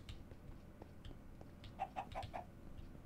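Chickens in a pirate-themed video game give a quick series of four short clucks, moderately close, over a steady low background ambience.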